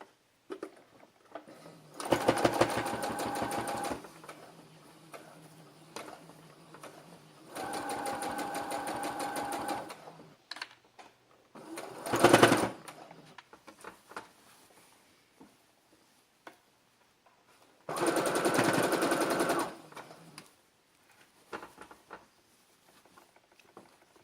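Sewing machine stitching dotted piping around the neckline of a white baby frock bodice, running in four separate bursts of rapid, steady needle chatter with quiet pauses and small handling noises between them.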